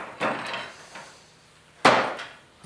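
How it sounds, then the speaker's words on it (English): Hammer blows driving a new bearing down from the top into an old Rockwell table saw: two sharp, loud metallic-wood knocks about a second and a half apart, the second stronger, in a quiet shop. "So we have to just pound that down from the top"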